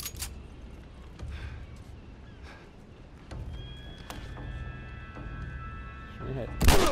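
A gunfight in The Last of Us, with scattered booming gunshots and heavy impacts spread across the scene, rising to a loud burst at the end, with ringing tonal game sounds in between.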